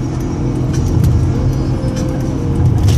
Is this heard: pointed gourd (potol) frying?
no